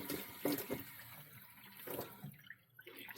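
Warm water runs from a tap into a sink in uneven, splashing bursts, fairly quiet and close, with brief gaps and drips as the flow shifts.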